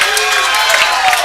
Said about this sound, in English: You can hear the crowd behind me.